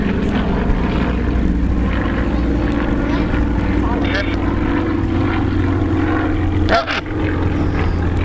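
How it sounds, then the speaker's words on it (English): Propeller aircraft flying at an air show drone loudly and continuously, the engine tone wavering as one plane adjusts its throttle to hold formation with the lead plane, while a commentator talks over it. "that aircraft in the rear is adjusting his throttle back and forth to stay with the aircraft up front"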